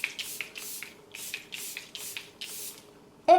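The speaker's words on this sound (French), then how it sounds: "Je refixe le tout avec un petit coup de spray." Makeup setting spray misted over the face in about seven quick, breathy pumps, close and even, each a short hissing puff, followed by a brief sharper sound at the end.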